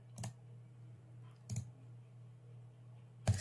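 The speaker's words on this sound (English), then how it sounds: "That keyboard is so comedically loud compared to you." A loud computer keyboard gives three separate sharp clicks spaced over a few seconds, close and crisp over a steady low electrical hum.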